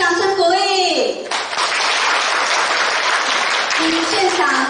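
An audience claps at a police award ceremony in Changhua, a steady wash of applause lasting several seconds, with a voice over a loudspeaker briefly before and after.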